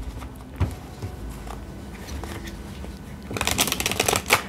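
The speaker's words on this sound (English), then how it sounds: "So we're going to start in with 7 more shuffles." Tarot cards are shuffled by hand in a soft, steady papery riffle that builds into louder, brisker flutters near the end, with no talking.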